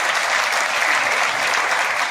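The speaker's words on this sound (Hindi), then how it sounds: "तालियों की गड़गड़ाहट से उनका स्वागत अभिनंदन है" A large crowd at an outdoor political rally for a Congress Lok Sabha candidate bursts into dense, continuous applause welcoming members of the press, loud and even with no voices rising above it.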